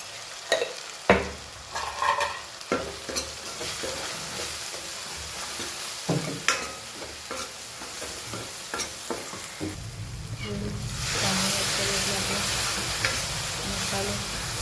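Red chilli powder, turmeric, coriander-cumin powder and salt frying in oil in a pan for a spinach dish, with scrapes and clinks of a spoon stirring, then a louder, steady sizzle building toward the end.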